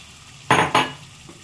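Mutton pieces hit a hot pan for a mutton curry in two quick, loud bursts of sizzling. A faint crackle follows.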